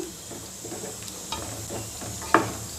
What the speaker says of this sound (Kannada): ಫ್ರೆಶ್ ಕ್ರೀಮ್ ಹಾಕಿ ಚೆನ್ನಾಗಿ ಮಿಕ್ಸ್ ಮಾಡಬೇಕು